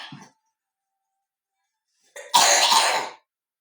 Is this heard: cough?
yes